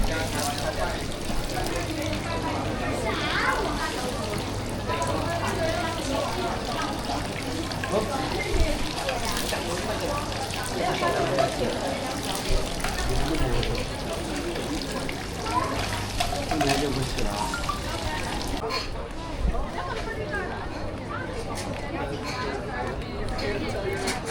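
Running water splashes steadily as hands are washed at a purification fountain at Senso-ji temple in Tokyo, with constant crowd chatter and people talking nearby throughout.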